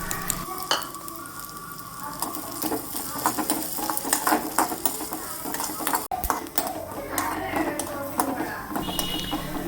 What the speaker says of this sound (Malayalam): കുറച്ച് തേങ്ങാക്കൊത്ത് ഉണ്ട് അതും കൂടി ഇട്ടൊന്ന് നമുക്കൊന്ന് വറുത്തെടുക്കാം